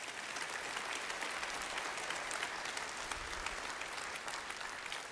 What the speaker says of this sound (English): Now you can clap for that.